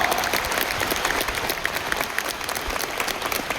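Sustained applause from a seated audience at a talk session, an even, dense clatter of clapping that holds steady throughout without any voices.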